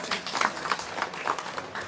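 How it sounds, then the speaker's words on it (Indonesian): Short burst of scattered clapping from a small group at an orchid nursery gathering, brief and fairly close, with uneven claps fading out after a couple of seconds. "Tepuk tangan"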